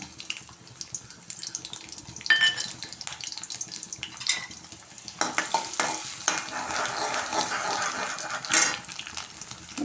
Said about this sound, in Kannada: ಬಿಸಿ ಆದಮೇಲೆ ಶುಂಠಿ ಮತ್ತು ಬೆಳ್ಳುಳ್ಳಿನ ಸಣ್ಣಕ್ಕೆ ಕಟ್ ಮಾಡ್ಕೊಂಡಿರೋದು ಅದನ್ನು ಹಾಕೋಣ